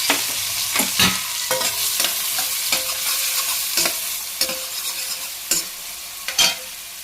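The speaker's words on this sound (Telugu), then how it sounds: "ఎండుమిర్చి ఎల్లిపాయలు చితక్కొట్టుకున్నాయి ఉల్లిపాయలు ఇప్పుడు వేసేసుకోవాలి" Sliced onions frying in hot oil with crackling mustard and cumin seeds, dried red chillies and crushed garlic, sizzling steadily close by while a spoon scrapes and stirs the pan in repeated sharp bursts, with no talk.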